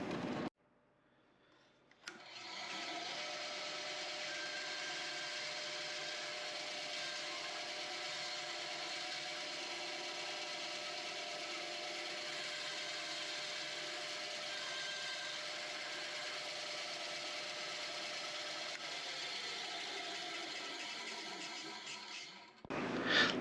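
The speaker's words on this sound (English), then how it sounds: "let's take him to the bandsaw and do a relief cuts" Bandsaw blade making relief cuts through a wooden ring blank, a steady whining cut that runs loud and unbroken for about twenty seconds after a quiet start, then stops abruptly.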